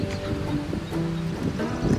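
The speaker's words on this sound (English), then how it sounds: "And it is windy and breezy and cloudy" Gusty wind buffets an outdoor flower garden on a breezy, cloudy day during dahlia planting, with a rushing, rustling noise, steady and moderately loud, and no talking.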